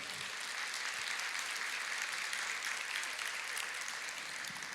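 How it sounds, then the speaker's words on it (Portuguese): A church congregation applauding together, continuous dense clapping heard from a distance and fairly faint, with no talk over it. "Vamos aplaudir ao Senhor."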